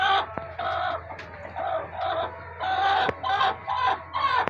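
A hen clucks repeatedly in close, loud bursts with short pauses between them, with no talking over it.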